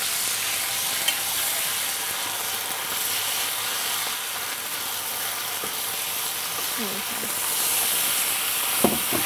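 Ginger garlic paste fries in a hot pan with a steady, loud sizzle, broken by occasional scraping strokes of a spoon stirring, and a couple of sharp clinks near the end.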